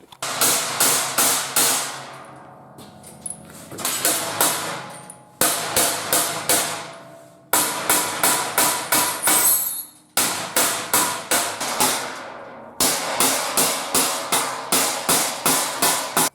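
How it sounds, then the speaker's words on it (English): Repeated hammer blows on galvanised metal in a milking parlour, falling in quick bursts of four to six sharp ringing strikes separated by short pauses, loud and close. "I think I'm going to just tap that back together a bit with a hammer"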